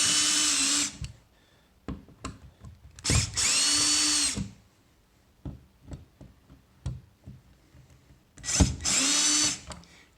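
A power drill whirs in three loud bursts of a couple of seconds each while installing a surge protector outlet, separated by quieter clicks, knocks and handling noises.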